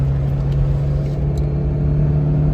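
Daihatsu Terios engine pulling hard at full throttle up through third and fourth gear, a steady loud droning rumble heard from inside the cabin, continuous with no talk.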